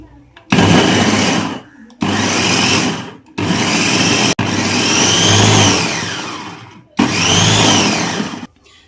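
An electric three-speed vegetable chopper whirs loudly in five separate bursts as it chops onion, each run starting abruptly, holding a steady motor drone with some pitch rising and falling, then cutting off into brief silence.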